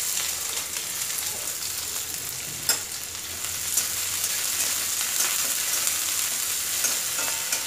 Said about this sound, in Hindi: अब इसमें मैं ये प्याज डालूँगी